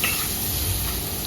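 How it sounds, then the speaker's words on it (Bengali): Potatoes and vegetables frying in a pan give a loud, continuous sizzle with the scrape of stirring, close and without talk. "তো দেখো এগুলো ভাজা ভালো করে হয়ে গেছে"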